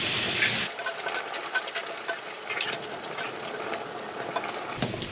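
Garlic and red pepper flakes sizzle and spit in a hot pan, a dense steady hiss with crackling pops and stirring scrapes throughout, loud and close with no talking.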